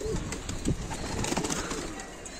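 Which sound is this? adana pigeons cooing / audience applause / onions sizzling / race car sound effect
adana pigeons cooing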